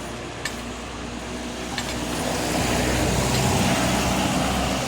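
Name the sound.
road traffic noise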